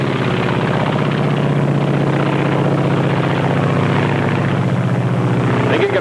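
Piston engine of a Japanese Zero fighter aircraft droning steadily and loudly throughout, a continuous propeller-engine roar with a narrator's voice over it.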